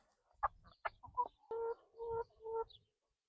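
Several hens cluck in short bursts and drawn-out calls in a backyard coop, close by and clear, with brief gaps between calls and no talking.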